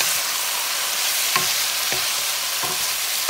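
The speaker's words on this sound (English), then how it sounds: "You're just mixing the base and the meat, the juices." Steady loud sizzling of beef frying in a pot with its base and juices for sancocho, with a few soft scraping stirs breaking through the hiss at irregular intervals.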